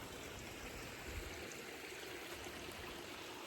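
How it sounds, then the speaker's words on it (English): Running water of a farm stream on a late winter afternoon, a steady close wash of trickling and gurgling flow that holds evenly throughout with no voices. "See over there, the stream from all the water"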